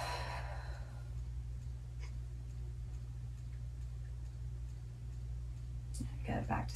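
A soft exhaled breath during a yoga flow opens the clip, airy and close, then faint breathy sounds follow over a low steady hum, with a few quiet rustles near the end.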